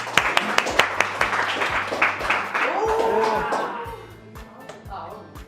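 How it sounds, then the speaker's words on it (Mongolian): Scattered hand claps from a school audience at a televised lyceum show, sharp and uneven at first, then thinning out as a speaker's voice takes over. "За манайхан алга ташаад өгөөрэй."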